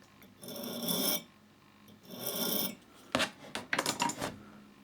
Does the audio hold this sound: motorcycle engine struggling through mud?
no